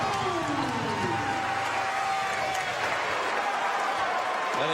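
A college basketball crowd at a Harvard at Saint Joseph's game roars and applauds in a large arena, a sustained dense wash of noise with voices and a whistle-like tone drifting through.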